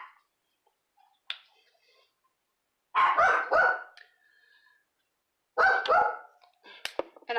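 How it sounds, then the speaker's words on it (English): A dog barks in bursts in the background, short sharp clusters separated by quiet stretches, with a couple of faint clicks between them. "And my dog's barking in the background."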